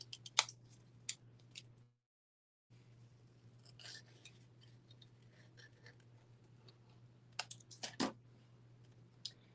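Scissors trim paper for a handmade card, a quiet series of small snips and clicks scattered over a steady low background hum, with a brief silent gap and a cluster of cuts near the end; no one speaks.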